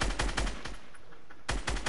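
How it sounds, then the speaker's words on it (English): Rapid bursts of video game gunfire, dense repeated cracks at the start and again at the end with a quieter gap between, close and loud. "Damn it, he sniped me."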